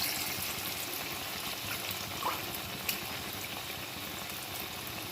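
Flattened green banana kofta balls fry in hot oil with a quiet, steady crackling sizzle, with a couple of tiny pops along the way.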